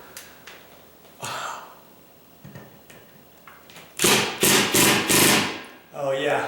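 An impact drill tightening a ceiling fan mount: a few sharp knocks, then four loud, rapid hammering bursts close by, each a second or less, followed by a short softer whir.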